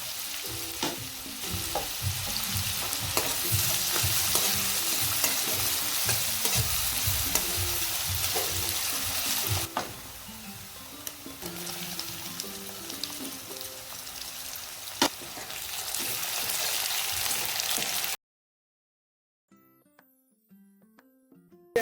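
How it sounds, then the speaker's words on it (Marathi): Onion frying with asafoetida in a pan gives a loud, continuous sizzle with rhythmic stirring scrapes, easing slightly partway before the sound cuts off to near silence at the end. "हिंग टाकला आणि कांदा टाकून परतून घेणार आहोत"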